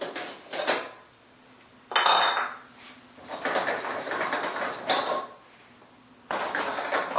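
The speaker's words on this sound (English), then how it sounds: "And then I'm going to unscrew the light bulbs" Glass light bulbs unscrewed from a bathroom vanity light fixture, grinding and clinking twists up close in short bursts separated by pauses.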